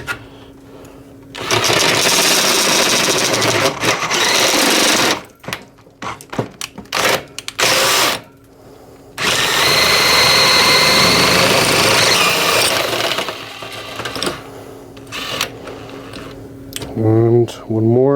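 A step drill bores through metal near the heatsink fins during repair of an NAD 2200PE amplifier, a loud whining grind in long bursts separated by short stops and brief pauses.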